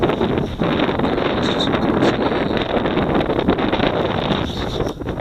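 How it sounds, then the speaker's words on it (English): Loud, steady wind roars across the microphone with rushing gusts throughout over open moorland, broad and unbroken, with no talking. "it's getting a bit windy"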